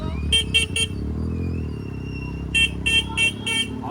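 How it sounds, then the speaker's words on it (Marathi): Several car horns honk during a village festival procession: three short toots, a pause filled with steady engine rumble, then four more honks, loud and close over the ongoing traffic noise. "सर्वांनी हॉर्न वाजवत जायचं आहे."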